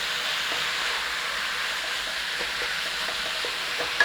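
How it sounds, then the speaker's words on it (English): Pork seasoned with sage and thyme is stirred in a hot pan, giving a steady close sizzle broken by soft scraping taps of the spoon, with no talking. "Give it a little stir through."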